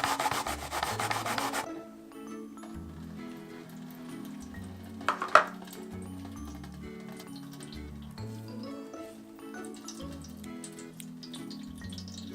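A pear rasped against a hand grater for spring cabbage (bomdong) kimchi, a fairly steady scraping rub with soft wooden scratches, loudest in the opening seconds and continuing quietly under light background music.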